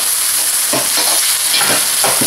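Onion and tomato frying in a pan for pakbet, with a loud steady sizzle and a few soft scraping stirs of a spatula, close up and without talking.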